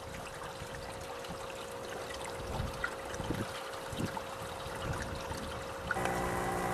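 Water in an aquaponics bell siphon draining from a grow bed down a 3/4 inch Schedule 40 stand tube, heard as a faint, steady trickle and gurgle with a constant hum behind it, no one speaking.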